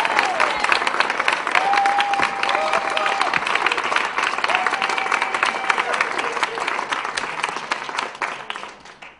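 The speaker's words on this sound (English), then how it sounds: "with a warm round of applause, please welcome Justin Zabor" A comedy club audience gives a warm round of applause as a comedian takes the stage, loud, steady clapping with some crowd noise, tailing off slightly at the end.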